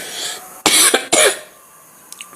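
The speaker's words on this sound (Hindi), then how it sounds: "थोड़ा खांसी प्रॉब्लम है" Two sharp, loud coughs in quick succession from a person, followed by quiet room tone and a couple of faint clicks.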